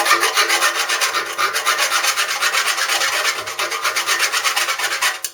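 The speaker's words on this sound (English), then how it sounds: "get into all the welds with the rat file and just even them round so they're nice and smooth and dressed" A rat file rasps over welds on a motorcycle's rear frame in a home garage. Steady, rhythmic back-and-forth strokes sound close and bright, with short dips between strokes and a final slowing stroke at the end.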